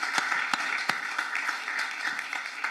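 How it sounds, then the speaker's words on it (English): Audience applause at a city council meeting, a steady wash of clapping with a few sharper individual claps standing out, moderately distant and fairly faint. "Can we give one more round of applause to our amazing youth"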